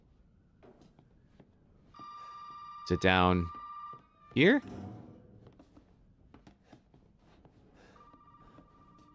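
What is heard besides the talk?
telephone ringing in the video game Resident Evil 7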